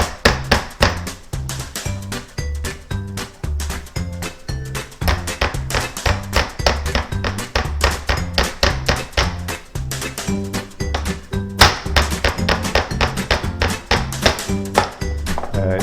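Boneless steak pounded flat on a board, a steady run of dense, loud thumping blows repeating rapidly and continuously throughout, alone without talk.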